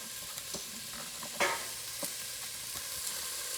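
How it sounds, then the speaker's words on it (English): Onions fry gently in a pan for a vegan casserole, a faint steady sizzle with soft scattered stirring taps and one louder scrape, heard close and quiet with no talking. "So we're gonna cook this for 5 minutes until the onions are, quote, soft and golden."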